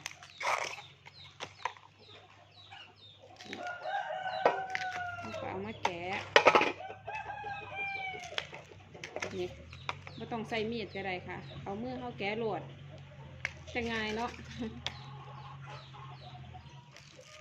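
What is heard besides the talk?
chickens clucking and crowing from a nearby chicken farm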